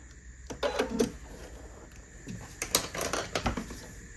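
A sewing machine stitches binding on a quilted picnic placemat in short bursts of rapid mechanical whirring, with brief pauses and small clicks in between, heard close and loud.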